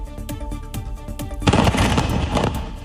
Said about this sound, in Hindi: जहां धमाके की आवाज सुनी गई